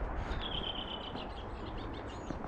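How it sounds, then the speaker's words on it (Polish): Outdoor birdsong in Iceland, a thin high whistling call and a few small chirps, faint and partly masked by low rumbling background noise. "Szukam, gdzie te ptaszki śpiewają"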